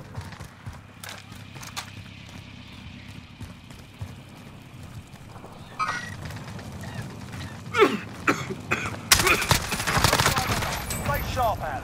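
Hostile players open fire in Call of Duty: Modern Warfare; sharp shots crackle in scattered bursts, building into denser, louder gunfire toward the end amid game noise and a voice.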